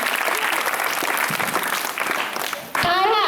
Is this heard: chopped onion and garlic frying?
no